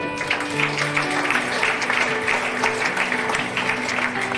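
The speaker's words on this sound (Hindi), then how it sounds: "सबसे पहले हम उन परम पिता पिता परमेश्वर के लिए एक बार धन्यवाद करेंगे जोरदार तालियों से" An audience on a group tour gathering in Goa claps loudly and steadily, a dense wash of applause over music that continues underneath the whole time.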